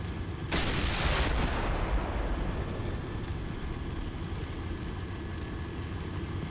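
A single heavy tank cannon blast in the Steel Beasts military simulator, a loud close boom followed by a long rumbling decay over a steady engine drone, with no talking.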